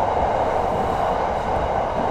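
Bangkok SRT Red Line electric train running near its depot and maintenance center, a steady loud rumbling roar of rail travel throughout with no talk.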